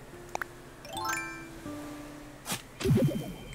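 Coins of bells money collected in Animal Crossing: New Horizons: a few bright chiming pickup jingles with rising tones, followed by a louder rustling clatter near the end, with no talk.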